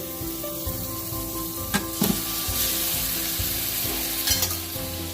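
Pork roast returned to a hot Instant Pot Ultra sizzles steadily, with a few brief clanks and stirring scrapes partway through and no talking.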